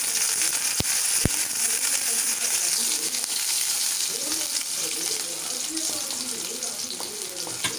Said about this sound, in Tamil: இப்போ வடைசட்டியில் ஆயில் விட்டு 2 வெங்காயம், கருவேப்பிலை, கொத்தமல்லி மட்டும் போட்டு நல்லா வணக்கிக்கலாம்.